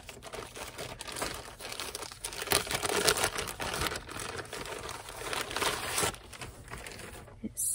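Paper from a parcel of happy mail is crumpled and crinkled while being unwrapped, a continuous close, busy rustling with sharper crackling bursts throughout.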